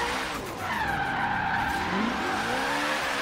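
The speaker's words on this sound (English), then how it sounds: "doing a donut for parking lot" A Hoonigan car in Forza Horizon 3 spins a donut in a parking lot, tires squealing in a loud, sustained skid that bends in pitch as the engine drones underneath, with no talking.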